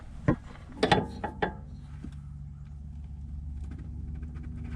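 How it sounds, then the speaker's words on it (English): A few quick metallic clicks and clanks of a wrench tightening a banjo bolt on a Mazda RX8 oil cooler line, clustered near the start, close and fairly quiet, followed by a low steady background hum. "I just need to get a wrench in here"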